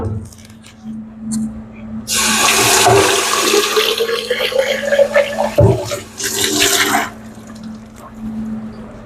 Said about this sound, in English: you want to go ahead and also rinse out the canister, filter canister also.